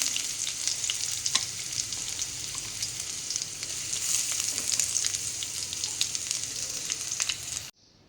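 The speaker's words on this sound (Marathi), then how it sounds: "कढईमध्ये थोडंसं तेल तापत ठेवलेलं आहे। तेल तापत ठेवल्यानंतर त्यात कढीपत्ता टाकलेला आहे।" Curry leaves fry in hot oil in a kadhai, giving a continuous close, crackling sizzle that stays steady and then cuts off abruptly at the end.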